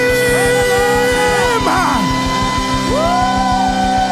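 A church congregation at a Cape Town service screams and shouts in praise, loud sustained yells and whoops rising over a steady, pulsing musical beat with held tones throughout.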